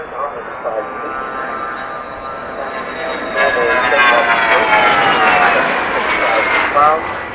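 Jet aircraft engines at the 1992 Farnborough Air Show give a loud, sustained whine that swells and shifts in pitch, growing stronger partway through and holding steady near the end.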